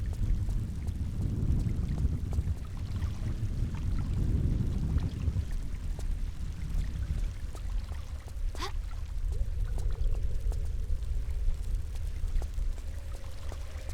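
Running water in the Tomb Raider video game, a steady low rushing pour with splashy texture, louder at first and easing into a softer flow with a faint tonal hum later.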